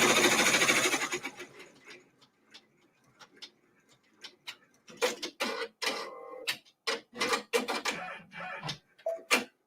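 A multi-needle embroidery machine stitches a tack-down for a quilt, starting with a steady whirr. It then settles into a sparse, clicking series of sharp taps and ticks with short pauses between them, close and fairly quiet.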